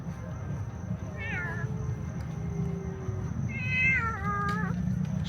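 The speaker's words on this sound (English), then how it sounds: "So many cats here in the park." Cats in a city park in Angeles City, two drawn-out, wavering meows at close range, the second longer and louder, over steady outdoor background noise.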